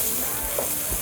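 Meat for Cajun red beans and rice fries in a pot, a loud, close, continuous sizzle with no other sounds.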